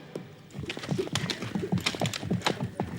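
A ridden horse trots with a quick, even clip-clop of hooves, close and moderately loud, the beats continuing without pause and no talking heard.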